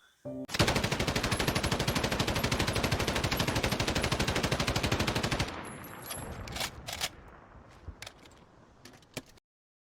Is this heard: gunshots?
yes